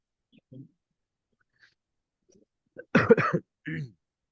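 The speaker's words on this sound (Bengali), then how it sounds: "আহ ভাইয়া, কাশি পাইছে খুব" A person coughs in a quiet room, with a faint throat noise first and then a loud burst of two or three close coughs followed by one shorter cough, mostly alone.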